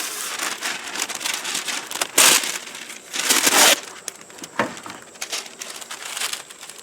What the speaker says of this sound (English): let's put out a small piece of parchment